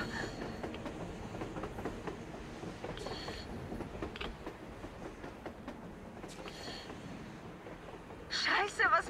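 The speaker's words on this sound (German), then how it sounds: "Ein verdammter Zug an der Oberfläche!" A train rolling past on the surface in the video game Metro Exodus, a steady rumble and clatter of wheels under the voices of people talking, with a sharper squeal near the end.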